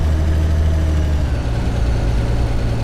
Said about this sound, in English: The engine sounds okay. It's starting to dip now. Down to fifth.